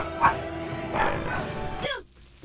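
A female dog barks a few times in a sharp run of yips and bow-wows, fairly close, with game sounds running underneath and a whimpering tail at the end.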